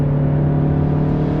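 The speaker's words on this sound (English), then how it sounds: "Car accelerates in a sort of leisurely fashion" A 2016 Toyota RAV4 Hybrid accelerates at full throttle, giving a steady, loud engine drone with a strong low hum that holds level throughout, heard from inside with no talking.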